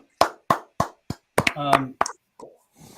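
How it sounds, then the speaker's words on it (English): A handful of single hand claps at a hypnosis stage show land at a steady, evenly spaced beat, fairly close, before a voice starts talking over the end. "Give a round of applause for Shawn."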